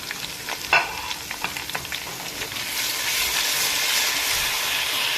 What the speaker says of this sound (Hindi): अब इसमें हम डालेंगे जी अदरक लहसुन, और अदरक लहसुन डाल के जी हम अच्छी तरह से इसको भून लेंगे।